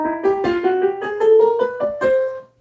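A major scale built entirely of extra chromatic passing notes, played on a single melodic instrument as a smooth rising line of about a dozen quick connected notes, clear and close with no talking.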